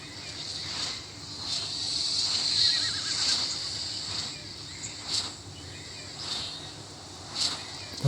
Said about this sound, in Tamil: இல்லை குதிரை ஓடி போகுது.